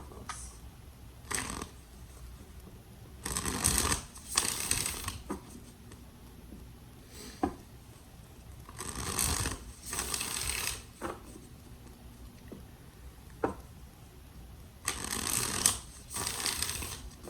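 Tarot cards are shuffled by hand in three separate bursts of riffling, crisp and close, with quiet pauses and a few soft taps between them; no one talks.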